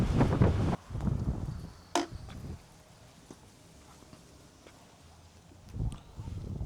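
Wind buffeting a microphone while riding a scooter on a cold, windy day, heavy rumbling gusts at the start and end with a quieter stretch between, close and rough.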